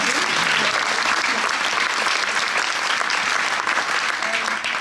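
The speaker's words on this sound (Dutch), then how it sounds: "En een applaus voor Judith, die dit natuurlijk heel erg doet" Sustained, even applause fills the room as the audience at a Dutch poetry competition claps for a performer. A faint murmur of crowd noise sits beneath the clapping.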